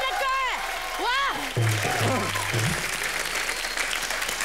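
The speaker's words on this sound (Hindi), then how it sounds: "जोरदार तालियां कृष्णा के लिए" Studio audience on a televised comedy show applauding warmly, continuous clapping running under voices and sliding, sweeping effect sounds.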